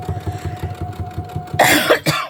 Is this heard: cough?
yes